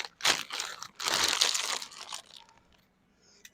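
Doritos tortilla chips crushed and crumbled by hand over a grilled Tex-Mex crunch burger, giving close, loud crackling crunches in two main bursts that fade to quiet.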